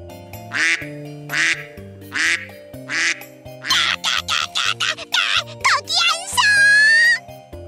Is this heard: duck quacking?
yes